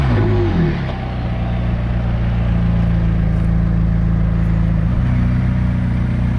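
A McLaren 675LT supercar engine drones close by, with a brief rev at the start that drops into a steady, throaty idle hum, briefly rising again near the end.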